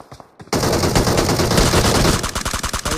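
Sustained, loud automatic gunfire from a DP-28 machine gun in the battle-royale game PUBG Mobile at a military base, starting abruptly after a brief quiet moment and continuing as a dense burst before breaking into separate shots.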